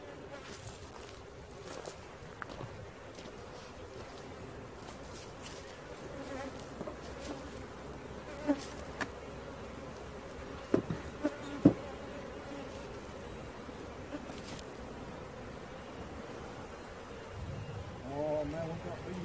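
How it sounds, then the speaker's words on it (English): Steady insect buzzing from a swarm of honeybees, a low continuous drone with occasional louder passes and faint voices in the background. "Oh man, we got bees in there."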